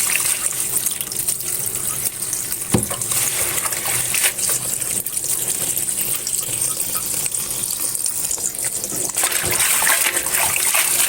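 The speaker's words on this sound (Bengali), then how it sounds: "শাকটা ভালোভাবে ধুয়ে নিব।" Mixed leafy greens washed under a running tap, with a steady close trickle and splash of water throughout and a few brief knocks.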